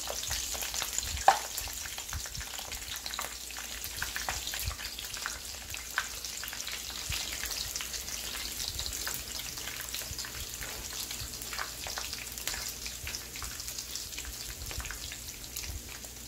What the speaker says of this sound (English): You want to make sure your oil is hot before you put them in there.